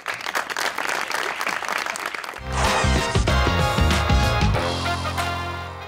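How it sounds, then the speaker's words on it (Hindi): Studio audience applause on a Pakistani TV talk show, a brisk burst of clapping lasting a couple of seconds before a loud musical jingle takes over. "तालियां"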